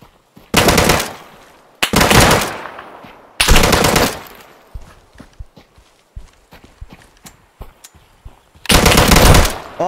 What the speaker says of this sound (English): Not much I can do against a machine gun, folks.